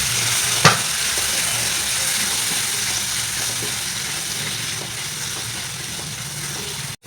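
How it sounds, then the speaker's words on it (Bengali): Spice paste sautéing with a splash of water, with green chilli, in a village kitchen: a loud, continuous hissing sizzle with one early clack of a spoon, steady until it cuts off at the end. "একটু জল দিয়ে মশলাটাকে কষাবো।"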